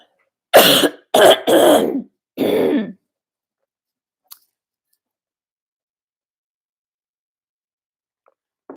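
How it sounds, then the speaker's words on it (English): Someone clears their throat several times in quick, rough bursts close up, then near silence with a couple of tiny clicks. "I'm going to have to clear my throat here"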